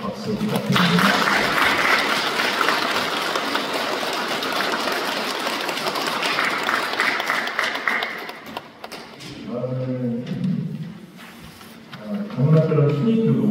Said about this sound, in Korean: 경례와 감사의 박수 부탁드립니다